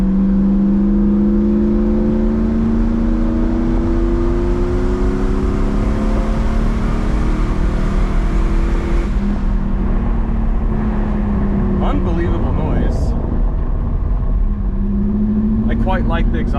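1992 Mercedes-Benz 500SL with an M119 V8 and modified exhaust, accelerating uphill under load, a close steady engine drone rising in pitch, then easing off with quieter idle and brief noises near the end.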